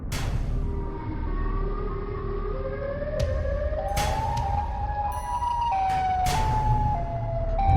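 The Siren Head monster in an animated horror story lets out a loud, rising and falling siren wail that slides upward in pitch, with sharp bangs and thuds cutting through.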